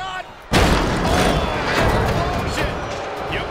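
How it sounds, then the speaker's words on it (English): An in-game explosion during a WWE 2K23 super heavyweight wrestling match between Omos and Yokozuna: a sudden loud boom that gives way to a sustained roaring blast of noise, with crowd noise and commentary mixed in. "Oh, explosion!"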